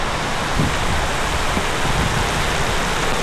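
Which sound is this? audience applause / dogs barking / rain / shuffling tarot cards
rain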